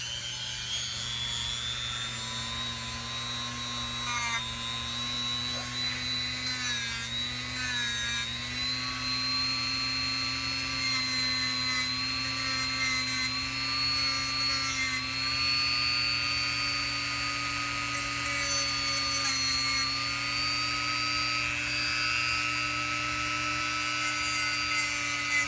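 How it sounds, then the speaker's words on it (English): A small power tool whines steadily while sanding a burr off a Norton Commando 750 motorcycle bushing, a continuous high tone with faint grinding flutters, close and unbroken. "I'm just going to sand that little mushroom off there."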